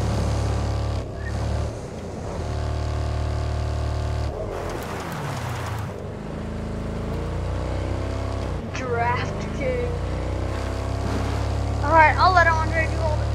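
Car driving in the video game Ghost Recon: a steady engine drone runs throughout with shifting revs and a brief rougher burst midway, while game voices talk over it.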